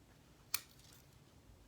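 A single sharp snip of scissors trimming the tip of a long gel nail set, one brief crisp click standing alone against quiet room background.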